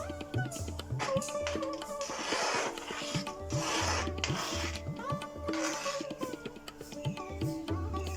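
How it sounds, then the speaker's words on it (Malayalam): Avil payasam, a rice flake pudding made with red matta rice flakes, scraped and stirred in a pan, with repeated rhythmic rubbing strokes close up and steady bubbling or scraping texture between them. "ഇനി നമുക്ക് നന്നായിട്ടൊന്ന് ഇളക്കി കൊടുക്കാം"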